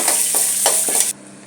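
A tablespoon each of chana dal and urad dal fry in oil with asafoetida, stirred with a spoon: a close, constant sizzle broken by several rhythmic scraping strokes, cutting off abruptly near the end.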